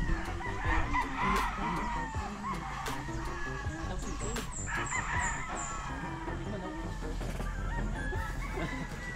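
Chickens and a rooster crowing and clucking in a busy, noisy setting, with several overlapping calls and a crow standing out midway, over a steady low rumble and background activity.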